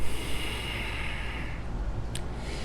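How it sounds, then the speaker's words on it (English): Yoga breath drawn in through pursed lips and let out through the nose, a single close, airy hiss of inhalation followed by a softer exhale, alone with no talk. "we're inhaling through the mouth, pursed lips, exhaling out the nose"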